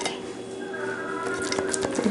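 Soft scraping and pressing of a spoon's back flattening Sri Lankan milk rice (kiri bath) in a dish, a short close, quiet series of smears and light taps.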